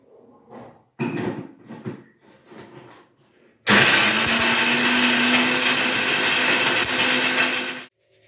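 A mixer grinder grinds dried homemade turmeric, kicking in suddenly after a few scattered knocks and running as a loud, harsh, steady whir for about four seconds before cutting off.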